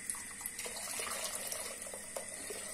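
Water pours steadily over bulgur in a pot for pilaf, a continuous soft rushing splash with faint clinks, close and unbroken, with no voices.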